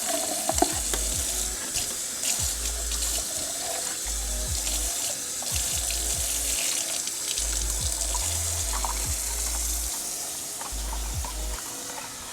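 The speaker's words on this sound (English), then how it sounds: "I'm gonna put a little bit of water in this." Water runs steadily from a tap or jug into a pot of Liberian palm nut soup, a continuous close splashing wash that lasts throughout with no talk.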